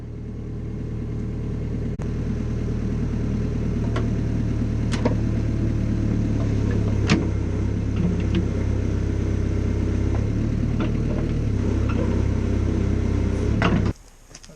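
A large excavator engine rumbles steadily as the machine drives away from a storage bay build, a constant low drone for most of the stretch before cutting off abruptly near the end.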